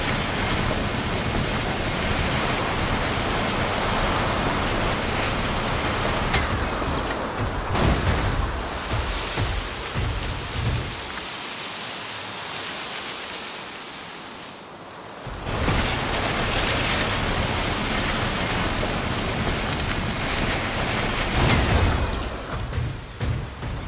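Light rain falls in the video game Synduality Echo of Ada as a steady, dense hiss that softens into a quieter lull midway before returning at full strength.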